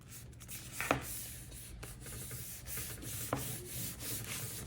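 Paper being burnished down by hand onto a handmade traveler's notebook: a soft, steady close rubbing with a couple of brief sharper scrapes, quiet and unaccompanied by talk.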